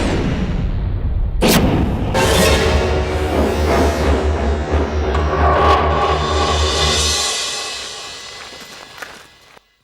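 A cartoon volcano erupts after being set off by remote: a sharp loud blast followed by a sustained heavy rumbling roar with further bursts, gradually fading away near the end.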